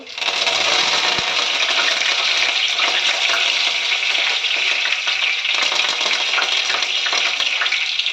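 Mustard seeds, cumin and curry leaves hit hot oil with a loud, dense, unbroken sizzle and crackle that stays steady throughout, close up and with no voices.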